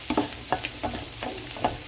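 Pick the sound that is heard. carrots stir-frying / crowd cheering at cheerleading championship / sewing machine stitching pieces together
carrots stir-frying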